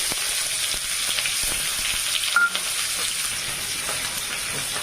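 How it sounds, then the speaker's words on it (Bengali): Chopped onion frying in leftover oil in a pan gives a steady, close, dense sizzle that runs unbroken, with a few faint stirring knocks and no voices. "ওই তেলটার মধ্যে আমি ভেন্ডি ঝালের পেঁয়াজ কুচিটা দিয়েছিলাম"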